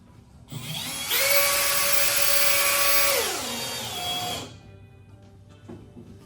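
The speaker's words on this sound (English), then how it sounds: "Next, we will add our four screws to lock it in place." A power drill drives screws into a Roofivent on a metal standing-seam roof: a close, loud, steady motor whine for about three seconds that slides down in pitch as the screw seats, then winds down and stops.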